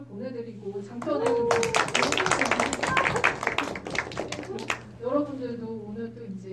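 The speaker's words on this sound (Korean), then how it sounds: "그래서 한번 박수를 보내드리고" An audience claps at a special film screening event, a burst of rapid hand clapping that swells and fades within a few seconds, with voices talking before and after and children's voices mixed in.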